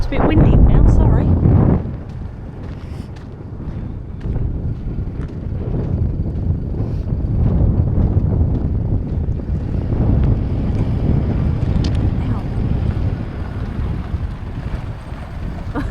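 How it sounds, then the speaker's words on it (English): Steady wind blows across the microphone on an outback roadside near Coober Pedy, a constant rumbling rush with a louder gust at the start, close and continuous. "It's a bit windy now"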